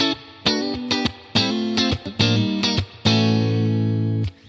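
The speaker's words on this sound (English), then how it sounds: "On the Dream 65 pedal from Universal Audio, it has an amazing spring reverb emulation." Electric guitar through a Universal Audio Dream '65 pedal's spring reverb emulation, plucking a few notes and chords, then letting a final chord ring out, washed in a springy reverb that lingers after each attack.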